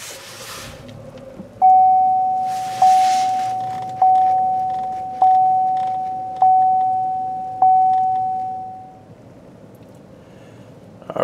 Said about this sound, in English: Put your foot on the brake and press the engine start stop button.